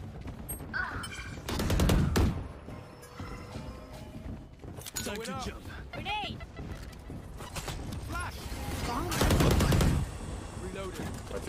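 Gunfire in the tactical shooter game Valorant, bursts of rapid automatic shots and sharp weapon mechanisms in two loud clusters, with players talking throughout.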